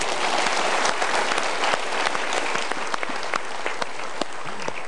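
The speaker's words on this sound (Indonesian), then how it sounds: "Kita berikan tepuk tangan dulu." Studio audience applause on a television talk show, a dense, even wash of many hands clapping that holds steady at moderate loudness for about five seconds before easing slightly.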